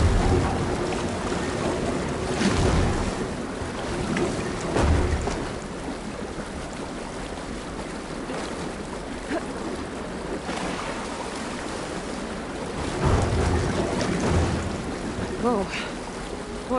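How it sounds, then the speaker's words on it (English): Rushing, surging water rising fast in Horizon Forbidden West, a continuous loud wash of churning flow and swells with periodic heavier surges throughout. "Water's rising fast."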